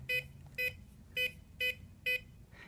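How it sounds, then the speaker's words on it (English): A safe keypad gives five short, bright electronic beeps in an even rhythm, close and clear over a quiet background. "hold for the second set of beeps"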